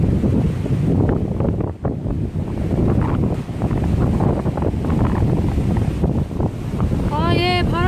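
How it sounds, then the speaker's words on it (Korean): Gale-force wind buffeting a microphone on a rocky island coast during a fishing trip, a loud continuous roaring rush with surging gusts, waves faintly underneath and a brief whistling tone near the end. "바람이 어마어마하게 많이 불고 있어요. 바람 장난 아닌데? 완전 강풍."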